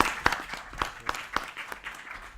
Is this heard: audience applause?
yes